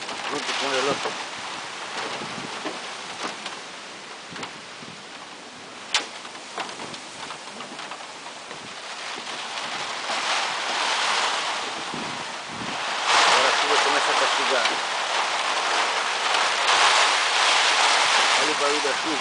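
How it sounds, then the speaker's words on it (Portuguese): Steady storm downpour in Sertãozinho, São Paulo hisses continuously, with gusts of wind buffeting the microphone and intensifying toward the end. "barulho da chuva."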